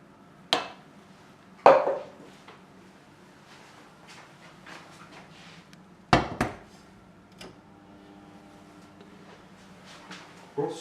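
A saucepan of milk is set down to heat, with a few sharp metallic clanks and knocks of pan and utensils spaced out over quiet kitchen background.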